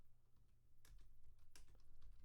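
Quiet typing on a computer keyboard, a few soft key clicks and a couple of louder taps over steady low background noise, with no one talking.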